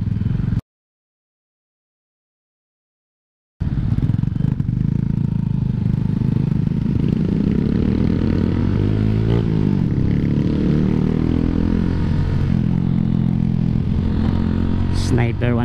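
A Sniper 150 motorcycle rides carrying a passenger, its engine a steady loud drone with wind rush that cuts out briefly near the start and then resumes, with rising and falling rev tones in the middle.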